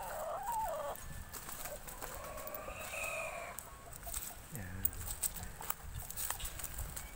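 Fighting roosters (gamecocks) in Bonbon cluck and call in short bursts, with a crow-like cry among them, close by over a steady outdoor background.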